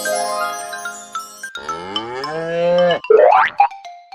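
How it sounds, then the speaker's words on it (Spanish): A cartoon-style cow moo on a farm, a loud drawn-out lowing call with a rising squeaky boing-like effect near the end, heard alone without talk. "Esta es una vaca."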